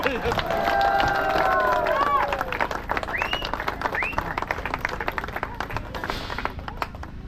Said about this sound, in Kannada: ಜೋರಾಗಿ ಚಪ್ಪಾಳೆ ಹೊಡಿಬೇಕೆಲ್ಲರೂ.